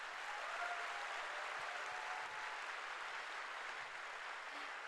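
A big round of applause from an audience at a family celebration, steady continuous clapping from many hands, fairly soft and distant, with no talking over it.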